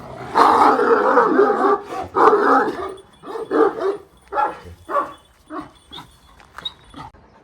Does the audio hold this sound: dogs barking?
yes